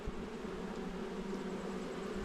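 Agitated honeybees from an unhappy hive drone steadily around an open hive during inspection, a constant mid-level buzzing swarm without pauses.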